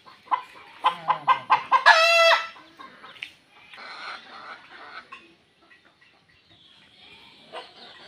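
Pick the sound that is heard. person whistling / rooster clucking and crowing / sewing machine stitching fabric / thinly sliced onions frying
rooster clucking and crowing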